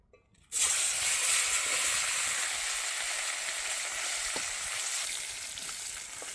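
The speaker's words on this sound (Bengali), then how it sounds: "তেলটাও আমার গরম হয়ে গেছে, এবারে ছোট ছোট মাছগুলো আমি ভেজে নেব" Small fish hit hot oil outdoors by a river, the sizzle bursting in suddenly after near silence, then holding as a loud, steady frying hiss that eases slightly over the following seconds.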